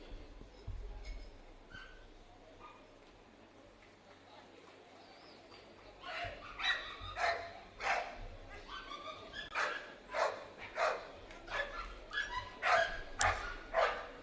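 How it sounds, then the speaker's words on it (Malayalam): A police dog barks during a dog squad display, a run of sharp, close barks in a quick uneven rhythm after a quieter stretch of low background noise and a faint voice. "max with dog handling officer Jithil"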